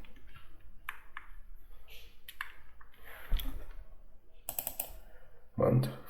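Scattered keystrokes on a computer keyboard while entering a date function in Microsoft Excel, soft irregular clicks in short clusters, faint and close, with a few louder taps near the end.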